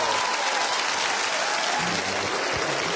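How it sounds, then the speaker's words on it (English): A studio audience on a dating show breaks into applause, a loud, dense burst of clapping that stays steady for a few seconds, with a little voice underneath. "Give him a round wow, of applause"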